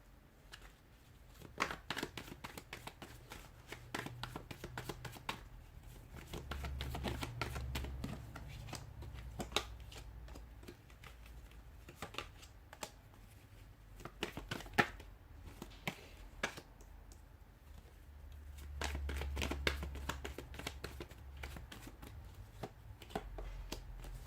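A deck of tarot cards is shuffled close up, with repeated quick riffles and crisp snaps in irregular bursts over a quiet room hum.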